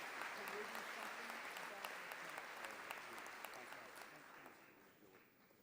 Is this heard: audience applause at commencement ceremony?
yes